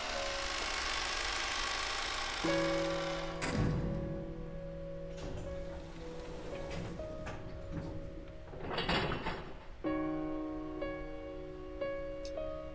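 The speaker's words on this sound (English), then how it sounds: "until the door closed and we heard the auto lock" A door in a visual novel game slides shut with a few sharp knocks and clunks, followed by electronic auto-lock clicks and beeps, all set against steady background music.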